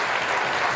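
A large audience at an outdoor bowl applauds the Melbourne Symphony Orchestra, a brief, dense, loud wash of clapping with no individual claps standing out.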